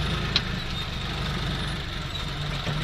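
A loader's diesel engine runs steadily nearby while filling a tractor trailer, giving a continuous low, rumbling idle-like drone with no talking.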